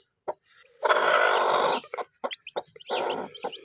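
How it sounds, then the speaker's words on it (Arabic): Hen clucking on hatching day, with loud, close bursts of raspy clucks: one short call, then a long sustained squawk, followed by several quick clucks and another drawn-out call. "اليوم موعد الدجاجة تفقيسها."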